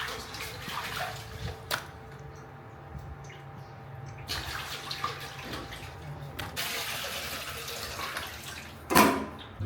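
Water splashing and running while a local Vietnamese fish, cá bà da, is washed clean in a rural home kitchen, a soft continuous trickle with occasional louder splashes and clatter.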